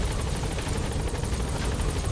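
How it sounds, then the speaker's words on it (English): Continuous helicopter rotor thrum from the video game Metal Gear Solid V, a steady loud whirring chop filling the whole stretch without any talk over it. "That enemy helicopter. That's your helicopter."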